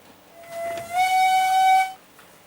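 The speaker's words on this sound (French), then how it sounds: "Le train est tiré par une vapeur 141R de la première série à chauffe au charbon." A coal-fired 141R steam locomotive of the first series sounds its whistle at a station, one steady shrill blast of about a second, clear and fairly close, with a little steam hiss around it.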